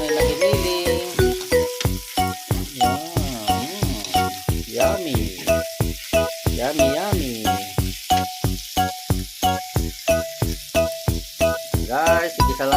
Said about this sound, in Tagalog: Gigisa natin ang karne na giniling.